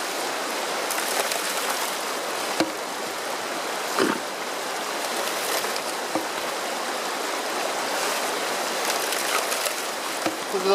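Water pours steadily through a gold prospecting sluice lined with dream mat, a continuous rushing wash with a few small knocks and clinks from gravel, close and unbroken, no voices.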